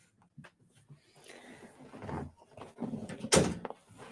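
A household door is shut with a soft thud near the end, following scattered small knocks and movement sounds in a quiet room.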